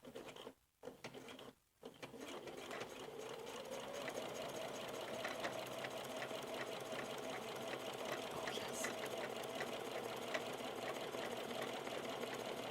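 A domestic sewing machine stitches buttonholes on baby overalls, a steady close whirring run that starts after a couple of brief pauses and continues evenly to the end.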